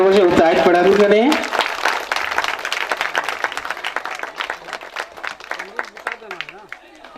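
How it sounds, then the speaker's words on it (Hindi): Children clapping in a hall after someone speaks loudly at the start; scattered, uneven applause continues and gradually fades, with faint voices underneath. "नारी शक्ति के लिए ताली बजाइए बच्चे लोग"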